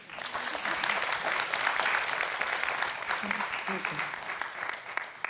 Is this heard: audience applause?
yes